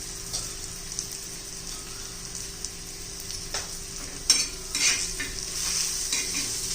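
Spices, chili powder, turmeric and coriander powder being sautéed in a pan for a traditional bajra and moth bean bibde chutney, with a steady soft sizzle and occasional scrapes of stirring.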